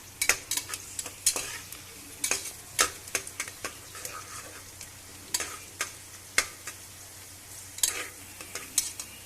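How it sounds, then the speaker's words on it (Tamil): Biryani frying in a pot over a high flame, stirred with a spoon that clicks and scrapes in quick irregular bursts over a constant background sizzle. "இப்போ கொஞ்சம் கிண்டி விட்டுக்கலாம். ஸ்டவ் ஹை ஃப்ளேமில் வச்சுக்கலாம்."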